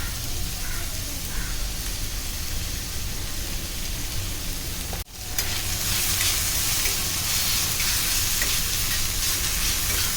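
Crab stuffing masala of finely crushed green chilli and ginger-garlic paste sautés in a pan over a medium-high flame, giving a loud, steady sizzle throughout with one brief dip midway.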